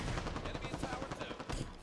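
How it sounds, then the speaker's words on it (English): Rapid gunfire in the Halo 5 Slayer multiplayer video game: a dense, continuous stream of loud, sharp shots with no break for nearly two seconds, close and steady. "Contact, hostile fire."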